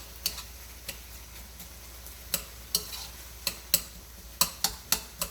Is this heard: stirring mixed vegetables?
yes